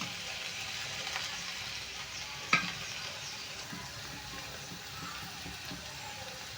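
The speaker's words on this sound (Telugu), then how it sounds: "ఇవైతే ఫ్రై అయిపోయినాయి కదండి చిక్కడికాయలు ఉల్లిపాయలు అయితే ఫ్రై అయిపోయినాయి" Broad beans and onions stir-frying with chili powder and turmeric in a pan: a quiet, even sizzle throughout with one brief clink partway through.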